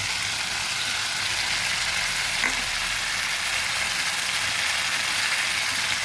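Chopped tomato and green chillies go into a pan with spices for a Bengali katla fish-head muri ghonto, giving a steady, close frying sizzle that runs evenly throughout with no talk.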